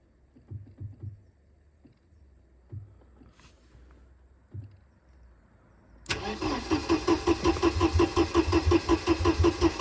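A Mercedes-Benz 190E with a fuel pump problem, starting for the first time in years: several short, hesitant cranking bursts, then the engine catches and settles into a loud, steady, pulsing idle close by.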